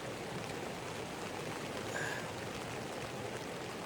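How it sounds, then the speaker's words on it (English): Heavy rain falls at a riverside camp as a dense, faint, even hiss with no break, and no voices are heard. "it's due to heavy rain like this till about 10 o'clock"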